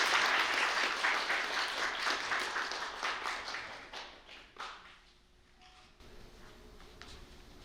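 An audience applauds a student award presentation at a Korean unification literary festival ceremony; steady crowd clapping tapers off over about five seconds into quiet room tone.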